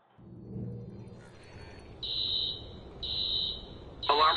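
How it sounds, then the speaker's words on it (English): A security alarm rings in the video game Watch Dogs, a high electronic tone sounding in repeated bursts of about half a second over a low background rumble, with a final louder burst at the end. "Alarm's been tripped."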